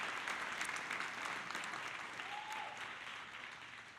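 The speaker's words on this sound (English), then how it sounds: "Everybody, round of applause for Vanessa Howard." At a hero luncheon, an audience gives sustained applause for Vanessa Howard, a dense, even clapping from a crowd that holds steady and tapers slightly toward the end.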